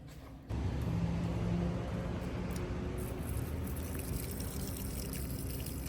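Water pours steadily while house plants are watered indoors, a close continuous splashing rush that starts abruptly and runs on without pause.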